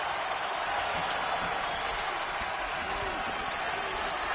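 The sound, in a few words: basketball arena crowd cheering loudly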